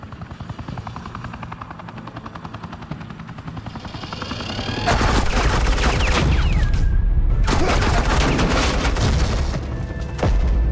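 Gunfire in Batman The Telltale Series, a helicopter drone throbbing first, then loud sustained bursts of suppressing fire cutting in twice, close and heavy, broken by a short lull.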